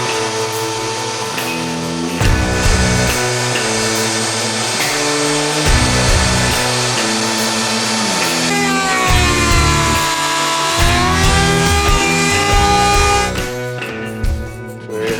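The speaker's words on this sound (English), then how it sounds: "they're gonna be spun by hand with a router" Hand-spun wooden drum shell shaped with a router, loud whining cutting with shifting pitch and roughness, rising and dipping as the tool bites into the wood, sustained over several passes.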